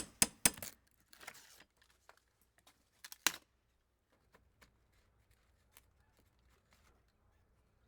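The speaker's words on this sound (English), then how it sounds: "Then the cut shingles around the opening are removed" Cut asphalt roof shingles being pulled away around a vent opening, with a few sharp tearing and crinkling rips at the start, then faint scattered scrapes and taps over quiet.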